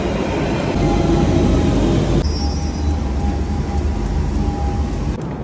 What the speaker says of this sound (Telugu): అలా టైంపాస్ చేసేలోపే మన ట్రైన్ అయితే వచ్చేసింది.